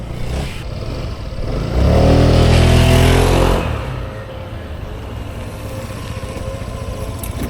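A Honda Giorno 125 scooter's engine hums along in traffic, surging louder for a couple of seconds as it revs, then settling back to a steady drone.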